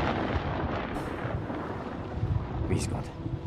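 Thunder from a storm at sea in the game Man of Medan rolls as a continuous low, heavy rumble with wind-like noise, steady and fairly loud throughout.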